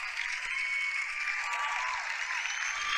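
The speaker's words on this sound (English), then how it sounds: "you just used the copyrighted clap" A burst of clapping plays as a sound effect, a dense, steady patter of many hands sustained for a few seconds at moderate loudness.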